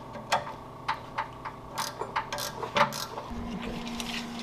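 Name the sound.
ratchet tightening Jeep sway bar bolts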